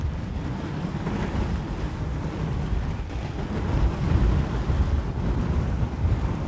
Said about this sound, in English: we've got a southerly wind, which is basically blowing straight into